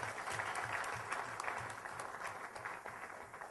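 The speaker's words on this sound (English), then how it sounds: "A big round of applause for them." A business-school budget competition audience applauds the second-place team, producing a continuous wash of clapping at moderate distance that tapers slightly toward the end.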